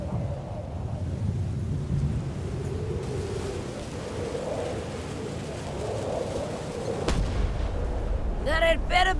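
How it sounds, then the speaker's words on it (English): Cannon fire in the Return to Monkey Island video game: a deep, sustained booming rumble with a sharp crack near the end, followed by a brief voice. "Ready for cannon firing."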